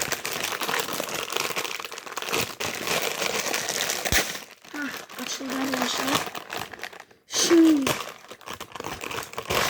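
A plastic bag is torn open and crinkled by hand, with crackly bursts and rustles coming and going close up while a person talks over and between them.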